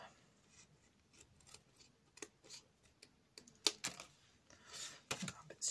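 Scissors snip through craft material in a few sharp, close cuts scattered over a quiet background, with brief rustling between snips.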